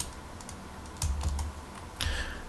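Keys clatter on a Commodore 64 computer keyboard as a line of BASIC is entered, with soft, close keystrokes in an uneven rhythm and a couple of firmer presses, with no speech.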